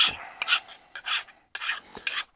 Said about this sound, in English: Chamfer the edges with a file.